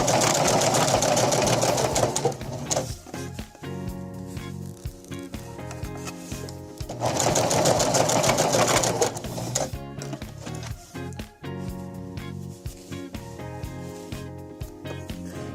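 A sewing machine stitches the hem of a formal tulle and satin skirt, running in two close, loud bursts of rapid mechanical whirring with pauses and handling noise between them.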